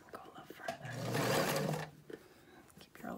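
A sewing machine stitching fabric for a face mask, a close whirring run that swells in the middle then stops, with short pauses and quiet handling around it.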